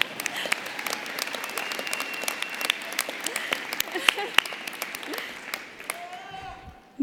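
Crowd clapping at the UIC College of Engineering spring commencement in 2019, a dense patter of many hands with sharp individual claps, thinning out near the end as a speaker's voice returns.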